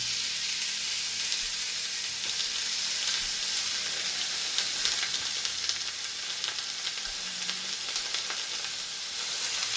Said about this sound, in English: we're going to go ahead and get our hamburger meat in here. Get this started cooking.